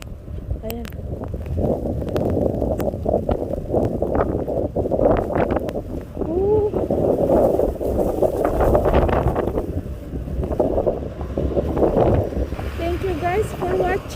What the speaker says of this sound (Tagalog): Hangin na malakas.